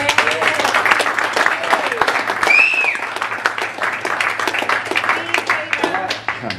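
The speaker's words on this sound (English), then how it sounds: "Everybody give them a round of applause." Audience applause fills the room at a billiards final at the Sydney Open, lively clapping with scattered whoops that runs for several seconds and tapers slightly toward the end.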